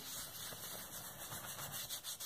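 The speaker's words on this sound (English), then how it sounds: "We'll do butterscotch, microfine glitter, and we will burnish that in." Microfine butterscotch glitter being burnished into a background, a soft continuous rubbing swish with gentle repeated strokes, close and fairly quiet, no voices.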